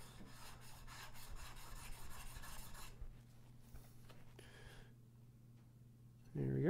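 Steel chisel sharpened on a fine stone, a soft rhythmic rubbing scrape of repeated strokes for about three seconds, then quieter scraping under a low hum before it fades.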